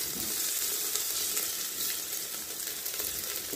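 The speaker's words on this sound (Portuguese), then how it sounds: "A gente sentir que deu uma boa tostada no bacon" Bacon crackles and sizzles steadily in a pan as it crisps, a dense, even frying hiss, close and fairly loud from start to finish, with no voices.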